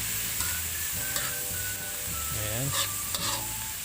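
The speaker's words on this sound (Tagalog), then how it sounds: "ilagay na rin po natin ang kangkong. Ayan. Haluin lang po natin ito." Water spinach (kangkong) is stir-fried with garlic and onion in a pan, a steady close sizzle with repeated scraping stirs, while a voice briefly speaks over it.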